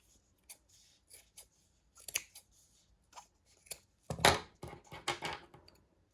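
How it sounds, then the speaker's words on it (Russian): Small scissors trim thread on a handmade Christmas tree ornament, giving sparse crisp snips that build to a few louder cuts toward the end, close and alone. "И выравниваем маленькими ножницами."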